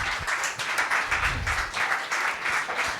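An audience applauds the speakers at a literary conversation event, a full continuous patter of many hands clapping with slight swells in intensity, fairly close and loud.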